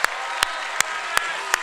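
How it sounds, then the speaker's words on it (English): Audience applause at a gaming convention main theater show, five sharp clap-like bursts at an even pace over a steady crowd clapping wash, moderately distant. "can we give him one more round of applause for happy birthday?"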